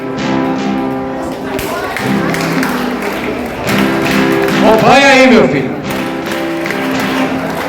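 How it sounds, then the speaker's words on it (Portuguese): A lecture audience at an event on racial equity in Iguaí, Bahia, claps hands and stamps feet along with a song, the rhythmic claps and thumps running under a singing voice and a man's spoken encouragement. "Vamos tentar batendo palmas e o pé para frente."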